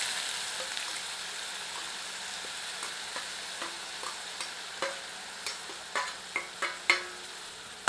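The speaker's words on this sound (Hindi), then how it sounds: "मध्यम आंच पर इसे तब तक भूनते हैं जब तक कि प्याज थोड़ी सी पारदर्शी नहीं हो जाती" Grated onion fries with cumin seeds on a medium flame for a Mughlai paneer curry. A soft, steady sizzle runs beneath spatula taps that grow louder and come faster, one after another.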